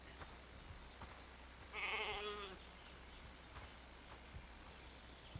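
A bighorn sheep gives a single short, wavering bleat in the national park simulator game Ranger's Path, faint and somewhat distant over quiet ambient background with light scattered rustles.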